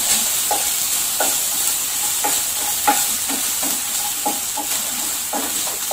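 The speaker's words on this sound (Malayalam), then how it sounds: "ചെറിയ ബർണർ ആയത് കാരണം ഒരു ഹൈ ഫ്ലെയിമിൽ വെച്ചിട്ടാണ് ഉള്ളി ഒന്ന് മൂപ്പിച്ച് എടുക്കുന്നത്" Onions frying on high flame in a pan for flattened-rice poha give a constant close sizzle, broken by regular soft scrapes of stirring about once a second, with no talking.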